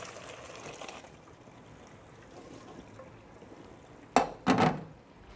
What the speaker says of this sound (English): I'm gonna get this over and drain it